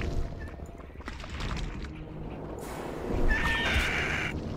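In the Sacred video game, a dying horse lets out loud, shrill whinnies and neighs near the listener, with a sharp cry rising toward the end, set against busy in-game background sound.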